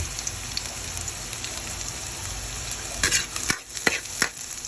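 Shrimp and garlic sautéing in a pan give a soft, steady sizzle, then a few sharp spatula scrapes and taps near the end, close but fairly quiet.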